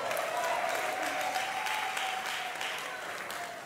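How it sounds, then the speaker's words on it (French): Audience applause at a talent show semi-final dance demonstration, a steady wash of clapping held for several seconds with a faint voice or tone running beneath it. "Est-ce qu'on peut applaudir pour moi,"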